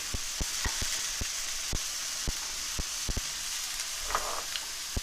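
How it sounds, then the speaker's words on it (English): Sliced shiitake mushrooms simmering in a pan, with a soft continuous sizzle and hiss broken by sharp irregular pops and ticks from the cooking, quiet and close, without any talking. "We're going to let these simmer for,"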